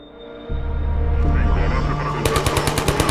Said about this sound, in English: Turrets.